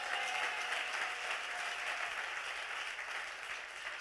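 A church congregation in Abidjan, Côte d'Ivoire applauding: dense, steady clapping from a large crowd throughout, fairly distant and even, fading slightly toward the end.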